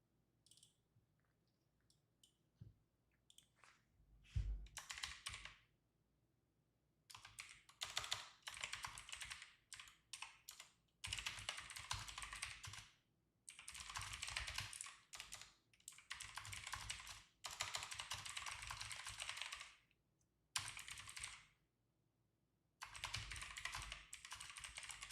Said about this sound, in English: I'm just typing up a little game plan here